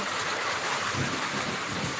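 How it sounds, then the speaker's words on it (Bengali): Heavy rain pouring steadily, a dense, loud, unbroken hiss of downpour with a faint low rumble underneath and no voices. "আজকে অনেক অনেক বৃষ্টি হচ্ছে"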